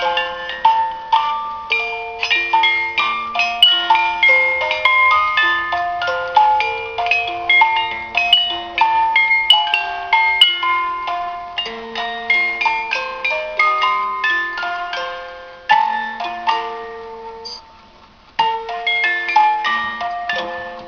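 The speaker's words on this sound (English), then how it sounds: "I wanted to kind of show off what it sounds like. This is the alarm set down here." An antique carriage clock's alarm plays a bright, repeating music-box melody of plucked metallic tones, steady and close, with a couple of brief pauses and restarts as the mechanism runs, no voices.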